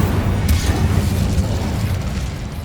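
A Confringo spell blast from the Hogwarts Legacy video game lands as a deep, booming explosion with a sharp burst near the start, then a dense rumble that stays loud and sustained throughout.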